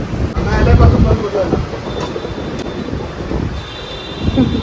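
A metro train rumbles loudly up close, wheels clattering with faint high squeals, and a steady roar that continues throughout.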